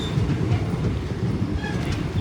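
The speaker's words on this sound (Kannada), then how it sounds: "ನಮ್ಮ ಗಾಡಿ ಇನ್ನೂ ICF ಕೋಚಿಂದ ರನ್ ಆಗ್ತಾ ಇದೆ" Passenger train of ICF coaches rolling through the Nallamala forest on the Srishailam–Ballari line, a steady close rumble of wheels and carriages with faint rail clatter throughout, no voices.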